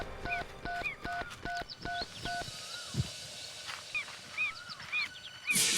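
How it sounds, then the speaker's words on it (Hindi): A phone is dialled in a TV crime drama, giving a quick run of about eight evenly spaced keypad beeps. Scattered electronic chirps and tones follow as the call connects, all fairly faint. "लग गया, फोन लग गया।"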